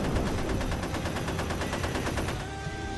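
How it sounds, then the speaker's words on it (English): Cannon fire in an animated battle between Thrall and Ghazghkull, with rapid volleys crackling in a dense, evenly spaced stream. The barrage is loud and continuous, then eases slightly near the end. "Gaz responds with a hail of cannon fire, the volleys blasting each other apart."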